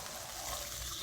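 A small amount of water poured into a hot pan with scallion and ginger for Shanghai-style sautéed grouper, a brief steady rush of liquid and hiss heard close.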